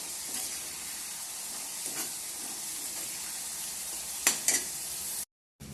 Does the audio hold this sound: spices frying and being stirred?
yes